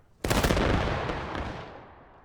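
A rifle volley fired as a memorial salute in the Civil War game War of Rights bursts out as one loud, near-simultaneous crack of many muskets, then rolls and echoes away over about two seconds.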